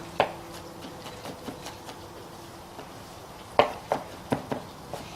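A knife dices an onion on a cutting board, giving sharp, close chopping taps in irregular bursts: a few scattered cuts, then a quick cluster near the end.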